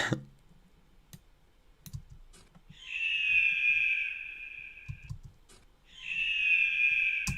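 Two long, piercing eagle screeches, the Assassin's Creed eagle sound effect, ring out a few seconds apart, with scattered soft clicks in the quiet between them.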